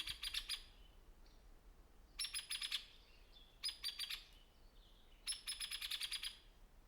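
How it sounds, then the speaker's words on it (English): A hairy woodpecker gives its whinny call, rapid descending rattles repeated four times in quick bursts, clear and fairly close against a quiet background. "You'll also notice the hairy woodpecker has a down pitch right at the end of its whinny call."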